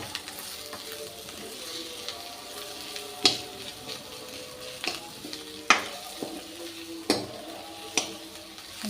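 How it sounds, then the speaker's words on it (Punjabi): Onions sizzle and fry in a pan for a paneer curry, a steady crackling hiss broken by several sharp clatters of stirring with a spoon against the pan, close and moderately loud with no talk. "ਹਾਂਜੀ ਪਿਆਜ਼ ਆਪਣੇ ਭੁੱਜ ਰਹੇ ਹਨ ਜੀ ਥੋੜੇ ਥੋੜੇ ਬਰਾਊਨ ਹੋ ਗਏ ਜੀ"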